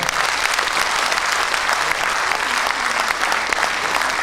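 An audience at an evening commemorative event claps in sustained applause, dense and loud throughout, with a faint murmur of crowd voices underneath.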